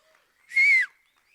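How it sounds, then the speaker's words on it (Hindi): A single loud, sharp whistle rising and falling for a guest at a film trailer launch event, one clear burst of about a third of a second in an otherwise quiet moment. "मनीषा जी के लिए जोरदार एक सीटी भी बनती है"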